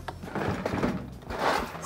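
A workshop drawer slides open with a rough, woody scrape and a short rattle lasting under two seconds. It sounds close, and no one speaks.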